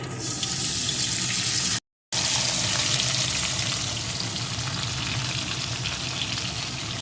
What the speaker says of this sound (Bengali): এখন বাকি মাছগুলোকেও এই একইভাবে ভেজে নেব